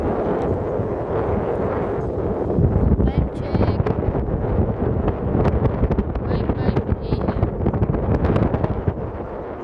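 Strong wind buffets the microphone at a seaside camp in Calatagan, Batangas, a loud continuous roaring gust throughout, with a person speaking briefly over it.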